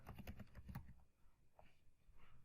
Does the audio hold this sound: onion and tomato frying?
no